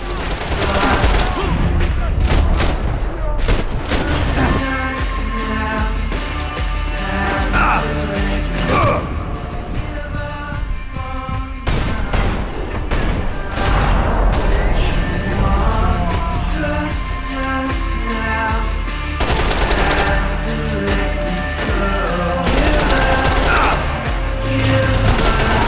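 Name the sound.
grenade explosions and gunfire in the Max Payne 3 video game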